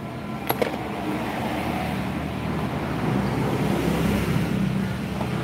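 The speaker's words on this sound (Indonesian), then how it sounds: "Ombak cuy." Ocean waves and surf heard from on or near a boat, a continuous rumbling wash mixed with wind buffeting the microphone, growing slightly louder toward the end, with a couple of sharp knocks near the start.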